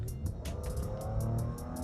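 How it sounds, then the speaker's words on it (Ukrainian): Audi Q TFSI Quattro SUV accelerating hard on a road, a steady continuous engine and road roar that holds at a fairly even level throughout, without clear gear changes, with no talking. "Я не знаю, чи ви чуєте цей кайфовий звук, але цей неймовірний розгон ви бачите."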